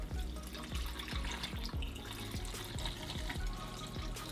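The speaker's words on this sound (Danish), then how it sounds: "Hælder ned i." Stop bath of water with a little acetic acid being poured into a film developing tank at home, a steady splashing liquid stream with small gurgles, close and continuous throughout.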